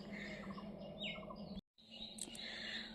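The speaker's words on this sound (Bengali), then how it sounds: "আর চারিদিকে তো পাখিদের কলরব" Small birds chirp and tweet repeatedly over a steady outdoor background in rural Bengal farmland, with a brief silent gap partway through.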